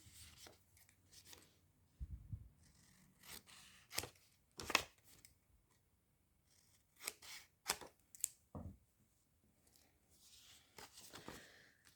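Scissors snip through paper in a string of sharp, separate cuts, some in quick pairs and others spaced apart, close and fairly quiet, while binder pages are trimmed.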